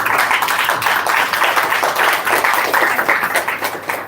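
Steady group hand clapping throughout a devotional kirtan chanting session, a dense continuous patter of many claps at a fairly even rhythm, with no clear voice on top.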